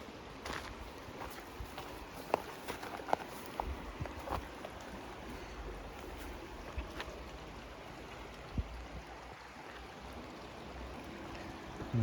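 Rock Creek on a Twin Falls, Idaho trail flows with a steady low rushing wash, broadband and continuous, with scattered small clicks and knocks nearby; no voices.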